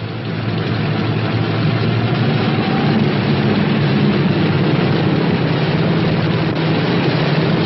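A P-61 Black Widow night fighter's radial engine runs steadily at low throttle, a continuous loud droning rumble with no pauses or voices.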